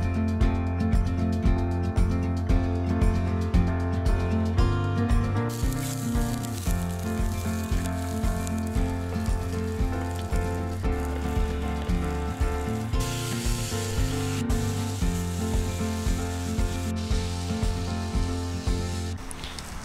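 Vegetables sautéing in a pan at an outdoor car-camping cook in winter, a loud steady sizzle with faint stirring scrapes, continuous and close, no talking.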